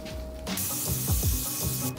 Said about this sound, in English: Need to spray it down.